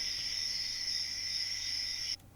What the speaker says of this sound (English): I've got crickets for the second course, which is set at night time